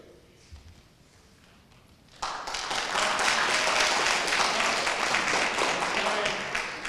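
After about two seconds of quiet room tone, an audience at an oratorical contest breaks into loud, sustained applause that fills the rest of the moment.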